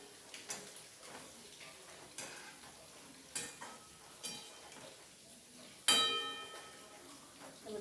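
Quiet frying with light sizzling, broken by several sharp clinks and scrapes of a utensil against a pan, one louder clatter near the end.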